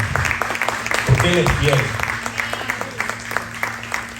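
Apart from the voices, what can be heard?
congregation applauding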